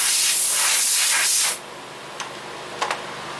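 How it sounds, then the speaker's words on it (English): Compressed air blasts in a loud, steady hiss for about a second and a half while blowing out a lawn mower's dirty fuel filter, then cuts off, followed by two brief puffs. "I'm going to be behind you blowing air."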